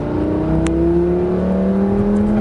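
A Lamborghini Gallardo 520 CV accelerates on the Marcoussis race track, the engine note climbing steadily in a loud, close in-car rev that builds across the whole stretch.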